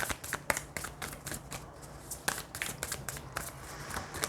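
Tarot cards are shuffled by hand in quick, close riffling bursts, with a sharp slap-like attack roughly every half second that settles into a steady rhythm.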